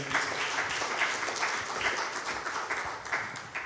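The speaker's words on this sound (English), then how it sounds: "a round of applause for him." A conference audience at a climate innovation event applauds a speaker, a sustained crowd of hands clapping at a fairly even level, moderately close and with no voices over it.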